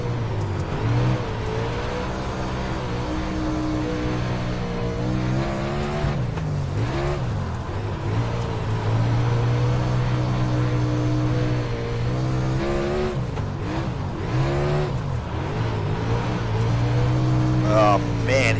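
Race cars in the iRacing sim at Lanier drone and rev steadily for the whole stretch, engine pitch climbing and falling through gear changes and corners, loud and continuous with someone talking over them.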